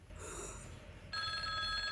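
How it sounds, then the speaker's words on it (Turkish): Telephone ringing inside the zombie survival game Into the Dead 2, a bright electronic trill that starts abruptly partway through and sustains steadily over quiet background ambience. "Aha telefon. Ne alaka? Aç abi telefonu."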